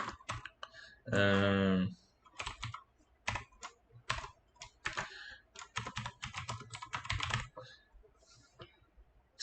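Python code is typed on a computer keyboard: a rapid, close run of light key clicks in uneven bursts, broken early by a brief voiced sound.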